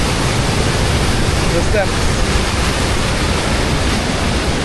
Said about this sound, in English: You can really feel the power of the water surging underneath